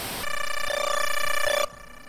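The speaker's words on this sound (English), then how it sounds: "That may be a good get ready sound." A Commodore 64 game sound effect, a candidate get-ready cue, rings out as a short electronic tone with a buzzy, bell-like warble that rises in pitch and cuts off after about a second and a half.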